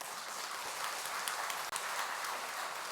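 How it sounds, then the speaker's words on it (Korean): A congregation applauds during a Catholic Pentecost Mass. The clapping is dense and sustained and fills the whole stretch, with no talking over it. "박수 한번 쳐야 되겠죠?"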